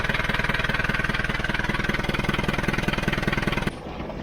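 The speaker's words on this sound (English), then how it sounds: "let's warm the engine up, get the oil nice and hot." A diesel engine of just under 10 litres idles to warm up its oil, a loud, close, steady rhythmic chugging that cuts off sharply near the end.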